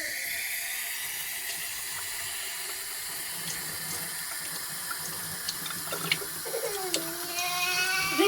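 A kitchen tap runs steadily into a sink while ginger root is washed under it, with faint scrubbing and light knocks building toward the end.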